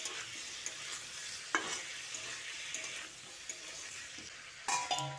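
Chana dal and tomato sizzling in a frying pan keep up a soft, even hiss while a spoon stirs and scrapes, with a sharp knock on the pan partway through and another near the end. No voices are heard.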